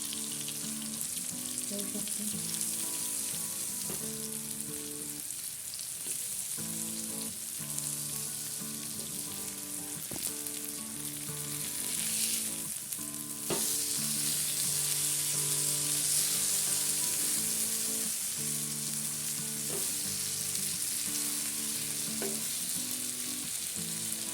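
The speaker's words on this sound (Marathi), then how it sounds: "एकदम छान अशी इथं पापलेट फ्राय झालेले आहेत" Pomfret fish frying in a pan, a steady close sizzle of oil that runs throughout, with the crackle swelling a little louder about halfway through.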